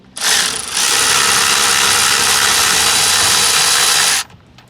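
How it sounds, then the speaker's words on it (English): A pneumatic impact tool hammers loose brake caliper bolts on a Toyota Celica GT-S in a garage, one loud continuous burst of rattling for about four seconds, then it stops. "Power tools, removing brake calipers."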